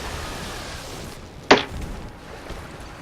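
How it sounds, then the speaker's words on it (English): A game controller drops onto the floor during a Dark Souls boss fight, giving one sharp thud against a steady background hiss, with no talking. "That was the sound of me dropping my controller in sadness."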